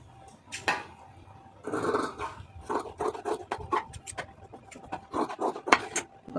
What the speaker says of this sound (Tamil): அப்படியே கையை கட் பண்ணி எடுத்துருவோம்